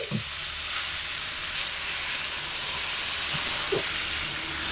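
Sautéed shukto vegetables simmer with a steady close sizzle and hiss in the pan as poppy seed paste water is poured in, with a few soft clinks and stirring touches and no talking.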